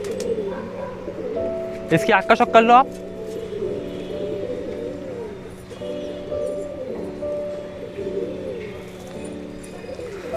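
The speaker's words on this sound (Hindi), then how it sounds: "ये जो दोबाज कबूतर है" Dobaz pigeons cooing in a soft, steady, rolling murmur throughout, with a brief burst of flapping or scuffling early on and someone speaking over the birds.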